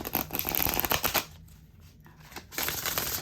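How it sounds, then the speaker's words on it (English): A deck of cards riffled and bridged close by, a crisp burst of fluttering snaps, a brief pause, then another quick shuffle. "Let's shuffle this deck."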